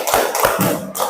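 Rhythmic group clapping salute in a classroom lesson, several sharp hand claps in a quick patterned burst, close and fairly loud with no talk over it.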